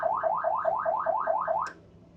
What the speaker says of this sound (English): this is really cool because it's your different horn sounds